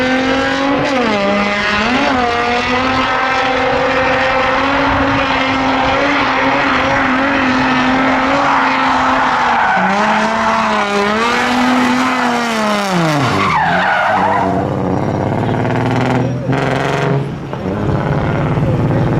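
A Infiniti G35 drifts at a drift event, its engine screaming loudly and continuously at high revs, with the pitch rising and falling, tire squeal mixed in, and a sharp drop in revs near the end.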